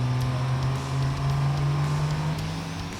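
A diesel drag truck's heavy engine hums loudly and steadily at idle-like pitch while building boost at the starting line of a drag race, a deep continuous drone with a faint rising whine, without talking.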